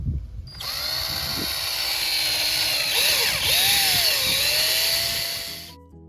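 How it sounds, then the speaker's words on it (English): A motorized auger whines steadily for several seconds as it bores into dry garden soil, its pitch dipping under load before stopping, loud and close. "I take my auger and I'm going to drill into that hole that I just made"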